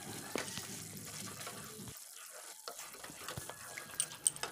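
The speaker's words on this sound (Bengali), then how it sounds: "এখন এটা কষাচ্ছি মশলাটাকে।" Spice paste with cashew and yogurt frying in a pan as it is stirred, a faint soft sizzle with light scraping and occasional clicks of the spoon, briefly dropping away before resuming.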